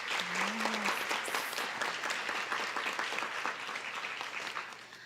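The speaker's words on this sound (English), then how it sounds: "So please give them a round of applause." An audience at a school board meeting gives a steady round of applause, dense and fairly even throughout, tapering slightly at the end.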